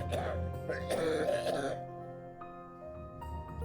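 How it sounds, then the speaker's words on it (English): A raspy throat-clearing cough in an RPG Maker game, followed by a quieter stretch of steady background tone. "It's a nasty cough you got there."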